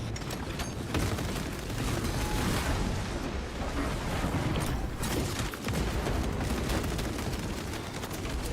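A dense, continuous roar of blasts and gunfire in the Space Marine video game, with grenade explosions rumbling loud and close throughout, almost without pause.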